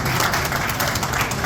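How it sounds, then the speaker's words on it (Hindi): An audience at a Brahmin Mahasabha meeting claps to approve a proposal, a steady crowd of hands beating continuously without a break. "तो इस पर भी तालियां बजा दीजिए ताकि हम ये समझ जाए कि ये प्रस्ताव भी पास है"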